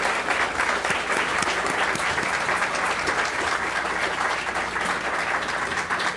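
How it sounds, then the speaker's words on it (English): Audience at a school district board meeting giving students a big round of applause, a continuous dense wash of hand clapping that stays steady and fairly loud throughout, with no talking over it. "can we have a big round of applause for all of these students?"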